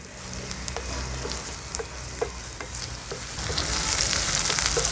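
Onion with ginger-garlic paste frying on a wood-fired stove, a dense continuous sizzle with scattered stirring scrapes that grows louder and brighter toward the end.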